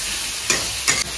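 Mutton curry base of tomato and salt stir-fried in a pan: a steady, loud sizzle with two brief scraping stirs of a spatula, and no talk.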